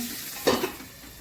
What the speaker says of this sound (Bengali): আলুগুলো ভাজা হবে